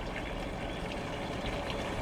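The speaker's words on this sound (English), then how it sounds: "we're using the hose to put more water into the tank. We're going to let that run until the tank is completely full." Water running from a hose into a storage tank, a steady continuous rush and gurgle of filling liquid, even and unbroken throughout with no voices.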